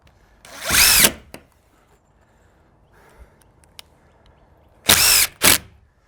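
A power drill drives screws into wooden garden shed boards in two separate bursts, one long whir and then a pair of short whirs, with quiet pauses and small clicks between.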